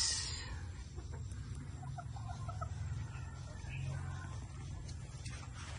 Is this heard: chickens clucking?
yes